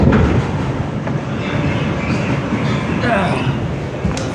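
An R211 subway train on the F line runs steadily underground, its continuous broadband rumble and rail noise staying loud and even throughout, with faint metallic clatter and a brief squeal near the end.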